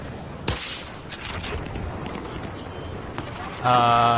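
A few sharp gunshots in a shooting video game, spaced irregularly over steady game ambience, with a louder tonal game sound at the very end.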